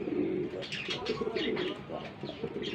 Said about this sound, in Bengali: এই যে নটটা ডাক দিছে অবশ্যই